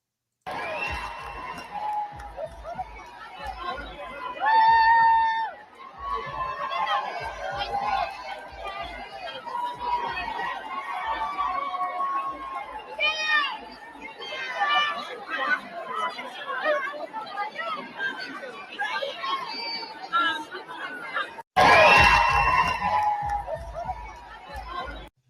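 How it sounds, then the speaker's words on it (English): A crowd outside the Wilbur greets attorney Tim Bradle with cheers. Dense chatter and talking run throughout, then a loud, sudden burst of cheering and shouting rises near the end. "Big cheer for him, which is absolutely awesome"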